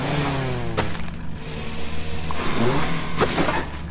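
Tractor engine in the farming game Farm Together, a steady mid-pitched drone with brief revving swells, loud and continuous throughout with no talk over it.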